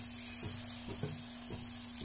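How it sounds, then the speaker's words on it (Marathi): Dosa batter sizzling on a hot tawa for crispy masala dosa, a close steady frying hiss with a few soft scraping touches and no talk. "आता यावर आपण बॅटर घालूया"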